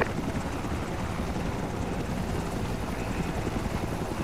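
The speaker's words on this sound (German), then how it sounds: "Wir werden mit dem Helikopter eingeflogen, weil der Halo-Jump nicht funktioniert hat." Helicopter flying in ArmA 2, a loud, constant close-up rotor and engine roar with no change in level.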